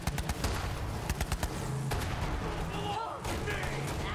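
Borderlands 3 gunfire opens with a rapid burst of sharp, loud shots in the first second and a half, then gives way to rumbling game noise while a voice talks.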